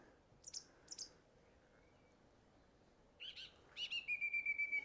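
Scattered bird chirps and calls, a pair of sharp notes, then a rising flurry of rapid tweets, quiet and fairly distant over a near-silent background.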